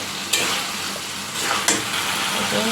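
Mung dal tipped into hot oil and spices in a pan where fish heads were fried, sizzling steadily while a spoon scrapes and stirs, with sharper scrapes near the start and middle; no one speaks.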